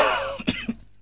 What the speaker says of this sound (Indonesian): Jadi sedikit batuk-batuk.